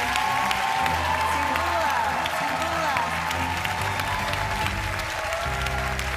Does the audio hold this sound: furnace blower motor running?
no